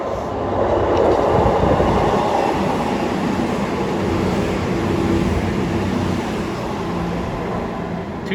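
Cross-country passenger train passing at Teignmouth, a loud continuous rolling rumble of wheels and carriages holding steady throughout, close by and without speech.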